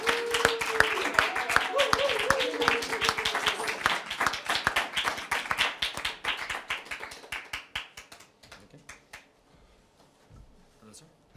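Applause at a BAFTA press conference, with many hands clapping briskly over a voice at first, then thinning to scattered claps and fading into near silence.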